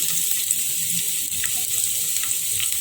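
A pan of tamago salad ingredients simmering on the stove, a continuous close bubbling hiss with faint occasional ticks, steady and unbroken.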